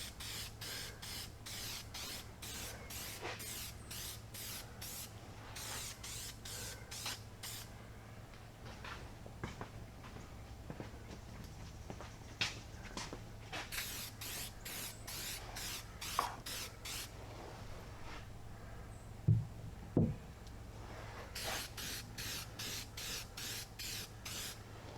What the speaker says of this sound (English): we're going to go and treat it with some Permatex rust treatment so it'll never rust again